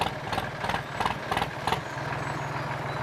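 A tractor engine runs steadily while ploughing a farm field, a constant low rumbling drone throughout, close and fairly loud, with a few brief rattling surges in the first half.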